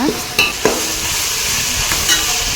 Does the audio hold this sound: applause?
no